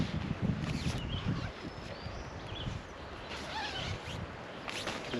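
A tent's screen door zipper pulled in a few quick strokes close by, with rustling fabric and steady outdoor wind noise behind.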